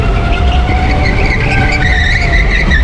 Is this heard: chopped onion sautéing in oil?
no